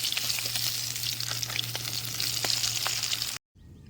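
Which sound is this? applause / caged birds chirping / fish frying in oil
fish frying in oil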